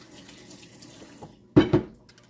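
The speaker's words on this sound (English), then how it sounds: "I'm gonna wash my hand." A kitchen tap runs briefly as hands are washed under it, a close splashing gush in two short bursts after a quiet stretch.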